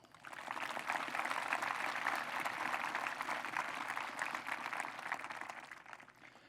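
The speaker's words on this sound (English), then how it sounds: "Let's give them a round of applause." Steady audience clapping at a 2023 commencement ceremony, swelling in over the first second, holding as a dense even patter, then fading away, heard at moderate distance.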